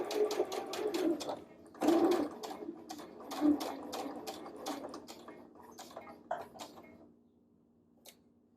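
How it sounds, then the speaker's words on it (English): A sewing machine bastes a neckband on a V-neck top, its steady rapid stitching hum stopping and starting in short runs before fading to quiet. "I am basting this neckband to the pivot point and back up again."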